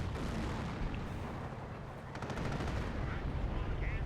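Heavy on-map artillery shelling in Company of Heroes, a dense, loud rumble of blasts and gunfire rolling continuously through the whole stretch.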